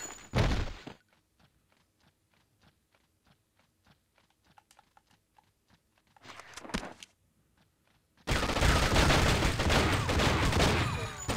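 Soft, sparse keyboard-like clicks and a brief burst give way to a loud, sustained rattle of gunshots in the True Crime: Streets of LA video game during the final few seconds.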